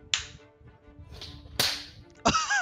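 Three sharp hand claps used to sync audio with video ring out a second or so apart, close and crisp, with the last one loudest and followed by a brief ring.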